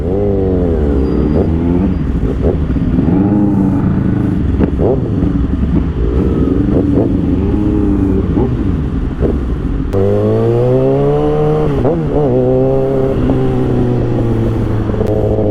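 Kawasaki ZX6R sports motorcycle ridden on roads in Labrador, Pangasinan, its engine loud and close with repeated rising revs and gear changes.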